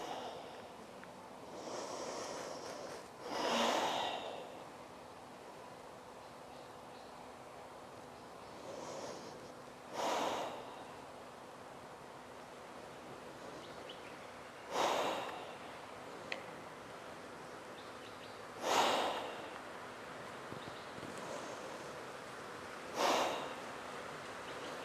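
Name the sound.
heavy breathing during kundalini yoga exercise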